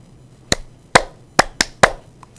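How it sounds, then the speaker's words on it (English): Five sharp, separate claps, the fourth and fifth close together, loud and near, in a classroom lesson on adding two-digit numbers. "Clap 5 times for yourself."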